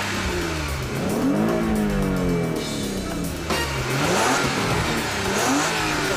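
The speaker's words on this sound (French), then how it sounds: "Dès les premiers tours de roue, on est donc séduit par le son du moteur." A Hyundai Coupe 2.7 V6 engine revs loudly and continuously, the pitch sweeping up and down through several throttle blips with a throaty mid-range growl.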